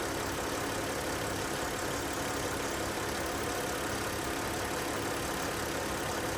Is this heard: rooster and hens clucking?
no